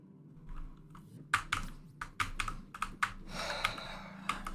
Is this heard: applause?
no